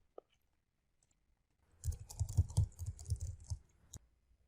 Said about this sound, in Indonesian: caranya adalah kita tekan Tab di keyboard